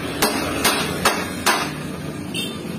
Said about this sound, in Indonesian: Saya tesnya bukan pakai kunci lagi, pakai palu.